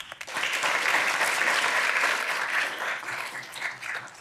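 A roomful of people at a law school moot court competition final claps, the applause swelling quickly to a thick, even roar of hands and tapering a little near the close.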